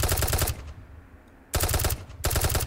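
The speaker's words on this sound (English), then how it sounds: "Oh, shots fired." Automatic gunfire from the Unturned video game rattles out in two loud, rapid bursts separated by about a second of quiet.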